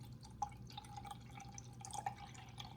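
Descaling solution is poured into the water reservoir of a Keurig K-Mini Plus single-serve coffee maker, heard as faint, quiet drips and a light trickle of liquid.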